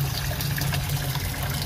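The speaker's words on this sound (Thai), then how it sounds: "ก็ลองทดลองให้น้ำไหลจากท่อน้ำล้นดู" Water runs through a sink overflow drain pipe, fitted with clear hose and electrical tape, as a steady, even gush with a low rushing tone and no break.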